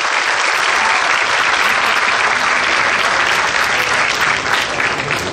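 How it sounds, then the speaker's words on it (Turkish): An outdoor crowd at an Istanbul road race awards ceremony applauds the race winner with loud, dense, sustained clapping that continues without a break. "Kuvvetli bir alkış rica ediyoruz lütfen kendisine."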